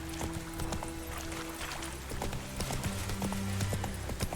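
Rapid hoofbeats of a galloping horse in the video game The Witcher 3: Wild Hunt, loud and continuous, with a brief whinny and the game's ambient music underneath.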